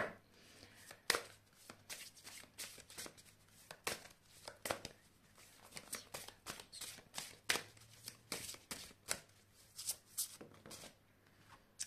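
Angel oracle cards shuffled by hand at close range, a long run of rapid, uneven riffling bursts with crisp papery slaps and brief pauses between them, alone in a quiet room.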